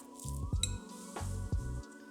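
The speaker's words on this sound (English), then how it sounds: "Now mash it up with a fork until it's a smooth putty." A fork mashes butter, mozzarella and parmesan into a smooth putty, giving a few close, soft squishing presses in a quick uneven rhythm.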